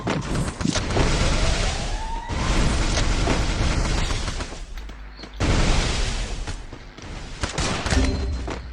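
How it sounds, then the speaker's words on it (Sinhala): Dense, rapid bursts of video game gunfire from a shooter match crackle almost continuously, loud and close, with brief pauses between volleys and booming impacts mixed in. "ඒ උන් දෙන්න එක දිගට වෙඩි තියාගෙන ඉන්නවා"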